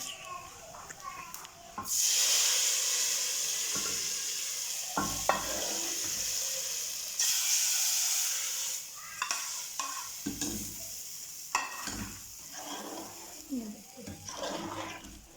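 Loud sizzling of tempering spices hitting hot oil for kadhi pakora, a sustained hiss that swells and fades with stirring clatter, while a person talks over it.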